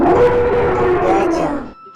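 A loud elephant call rings out as one sustained, wavering tonal blare lasting under two seconds before cutting off into near silence.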